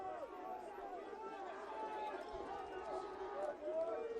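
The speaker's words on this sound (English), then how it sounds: "You can hear the crowds vocal in this game" Vocal crowd noise at the 2019 NCAA Division III men's soccer championship between Tufts and Amherst, a steady distant murmur of shouts and chatter with occasional whistles rising above it.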